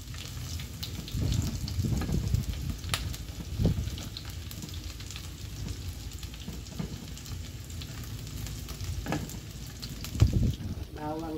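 Garlic and onion fry in oil in a pan while a bitter gourd vegetable dish is cooked, giving a steady close sizzle with occasional stirring scrapes. Faint speech is heard in the background.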